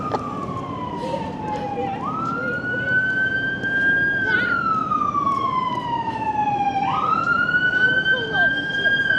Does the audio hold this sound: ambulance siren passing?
yes